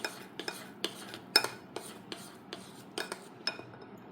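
A spoon stirs rice flour into egg bonda batter, a run of close, crisp scraping clinks against the bowl in an irregular rhythm, no voices.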